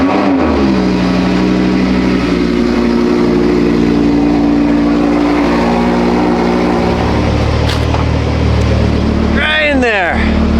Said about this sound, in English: put some heat in the engine of the Huracan